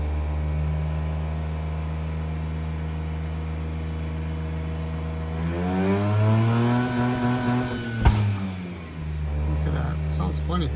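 Mazda RX-8 rotary engine idling at a steady hum, then revved up and back down in a smooth rising and falling sweep, with a sharp pop near the peak before it settles again, close and loud.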